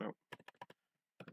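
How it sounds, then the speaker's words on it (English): A value is typed on a computer keyboard in a few quick key clicks, close and clear, with a short burst of speech at the start and a brief pause before the final keystrokes. "Let's type in,"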